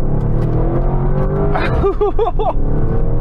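A deep, throaty Lamborghini Urus engine with an aftermarket exhaust burbles steadily up close, with a brief burst of voice-like tones in the middle.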